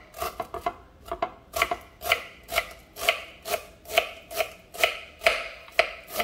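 Fresh cilantro being finely chopped with a knife on a cutting board for shrimp ceviche, a brisk, steady run of crisp taps about two per second, close and clear with no talking.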